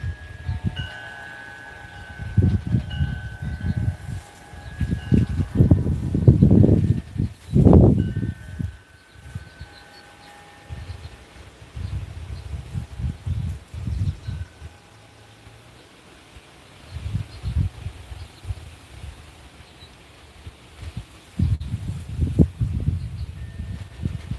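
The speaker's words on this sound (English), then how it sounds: "that wind's getting serious." Strong wind gusts blowing outdoors, arriving in loud rumbling bursts that rise and fall over the scene with quieter lulls between, with a rustling, leafy texture and no talk.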